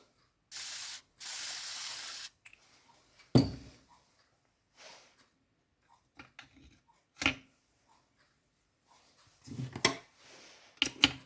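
Two short hissing bursts of spray lubricant hit BMW R35 (1938) motorcycle gearbox parts, followed by quiet clicks, taps and metallic clatter of parts being handled close by.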